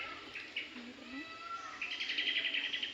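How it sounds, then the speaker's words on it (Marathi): A peacock calls among mango and jackfruit trees in a rural yard, giving faint distant cries mixed with other bird chirps and a soft outdoor hiss. "मोर बोपते बघ"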